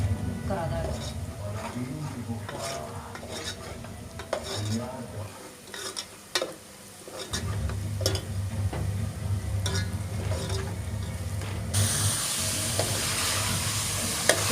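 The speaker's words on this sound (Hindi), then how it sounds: "अदरक लहसुन डाल के गोश्त को भुनने लग गई" Mutton sizzles in a pot with ginger and garlic while being stirred, a continuous close frying hiss punctuated by utensil scrapes and clinks, the sizzle growing stronger and brighter near the end.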